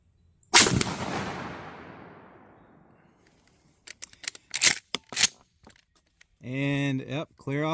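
A 12 gauge YTR Troy shotgun fires a slug outdoors, one loud close blast with a long fading echo, followed by a few sharp handling clicks and someone speaking at the end.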